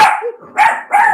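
A puppy barks three quick, sharp, loud barks close by, with short pauses between them.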